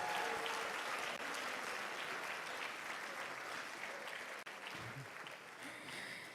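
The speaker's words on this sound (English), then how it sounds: "another round of applause" Sustained applause from the audience at a youth leadership debate grand finale, a broad steady wash of clapping lasting several seconds, softening slightly midway.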